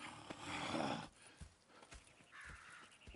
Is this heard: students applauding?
no